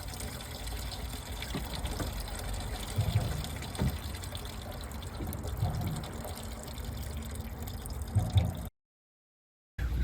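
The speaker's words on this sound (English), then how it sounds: "I poured water into the hose that leads from the thermostat into the engine, so that the water came out of the other end." Water is poured into a BMW E34 cooling hose from the thermostat to flush the engine, a continuous close gushing and splashing with small bursts, then a brief silence before it resumes.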